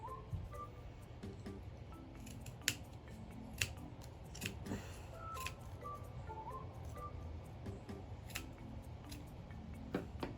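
Scissors snipping through wound yarn to make a pom-pom, a run of crisp close cuts in an irregular rhythm over faint background noise.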